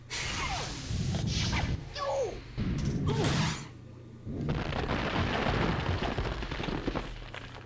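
Video game gunfire from a 9mm in Conker's Bad Fur Day, several sharp booming shots with whooshing tails in bursts separated by brief gaps, loud and close, with faint game sounds between.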